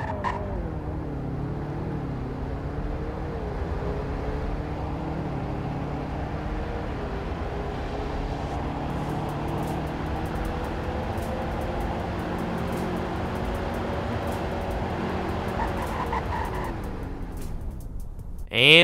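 A car in Roblox Greenville accelerates hard from a standstill, its engine tone climbing through shifts for about fifteen seconds, then falls away under braking before a sharp thump at the end, with no talking.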